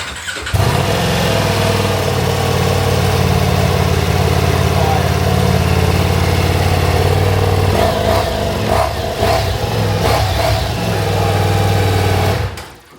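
A Ducati Diavel V4 motorcycle with its stock exhaust fires up and settles into a steady, throaty idle, loud and close, running without revving until it cuts off.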